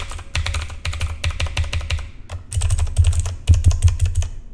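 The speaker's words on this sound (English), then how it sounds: "And here's a test with them on, with the dampeners on. As you can tell, it's way softer" Fast typing on a mechanical keyboard with MX Blue switches fitted with dampeners, producing softened, muffled clicks in quick irregular bursts, close and alone, with a brief pause midway.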